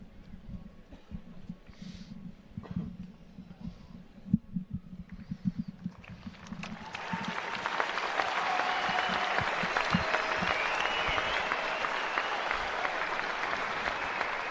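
A near-sellout crowd at Boardwalk Hall for the state high school wrestling championship finals begins with scattered claps and stray thuds, then swells into sustained broad applause across the arena for the second half.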